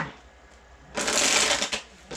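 Tarot cards being shuffled by hand during a reading, a dense papery riffle that bursts in loud and close for under a second, drops off, then returns briefly.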